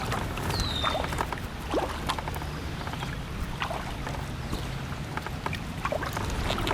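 A kayak moves on the Kiskiminetas River on a mostly sunny day, with continuous water wash and wind noise and intermittent splashing paddle strokes close by, no voices.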